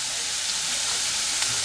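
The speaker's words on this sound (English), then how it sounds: "Saute this mixture well until remove the raw smell of this ginger and garlic" Crushed ginger and garlic sautéing in a hot pan give off a continuous, even sizzle at close range with no talking.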